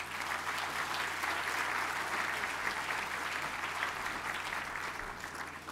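A crowd gathered for the inauguration of the Bastogne War Museum applauds a man's arrival with a dense, even roar of clapping that holds steady throughout and eases slightly at the end.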